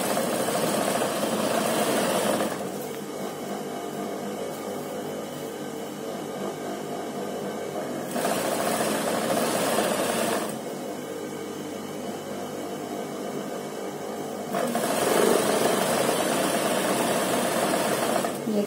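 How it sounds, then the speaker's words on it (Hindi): A sewing machine stitches along the crease of a trouser hem in long, steady whirring runs, close and loud, with brief slower pauses between passes. "इस तरह से सिलाई लगा लें दोनों पांचों के क्रीज के साथ साथ।"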